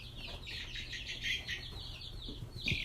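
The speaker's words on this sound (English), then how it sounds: "This is my little chicken." Young chicks, including a Rhode Island Red chick, chirp and cluck in a steady stream of high, close peeping calls with a few lower clucks near the end, alone without talking.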